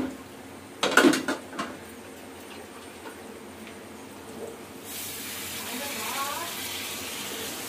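Water poured into a pan of curry, heard as a steady rushing pour that starts about two-thirds of the way through, after a few brief clinks of cookware, with no talking.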